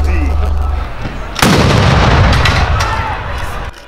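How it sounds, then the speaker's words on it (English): Ceremonial gun salute fired at a minister's burial, a loud heavy boom with a sharp onset followed by a long rumbling decay over low background noise. "11 gun salute crowned the minister's journey"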